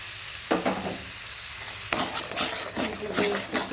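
Melon seed and cashew paste stir-fried for a paneer dish, a steady sizzle with scraping stirring strokes that start around half a second in, pause, then return busier and louder for the rest.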